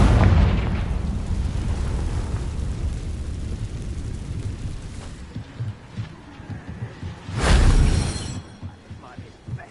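A booming fiery blast from the Confringo spell in Hogwarts Legacy rolls out with a deep rumble that fades slowly, followed by a second heavy boom a few seconds later.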